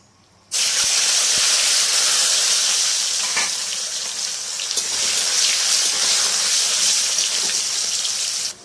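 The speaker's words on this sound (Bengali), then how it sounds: "এবার ওই তেলেই নুন হলুদ মাখানো বেগুনগুলো ভেজে নেব।" Oil erupts into a loud, continuous sizzle as salt-and-turmeric-coated eggplant hits the pan, holding steady with faint clinks and stirring until it cuts off.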